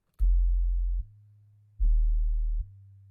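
Sub bass synth notes filtered to the 20 to 65 hertz range in mono: two deep, smooth sustained notes, each starting with a soft click and stepping down in level partway through, separated by a short gap, heard alone.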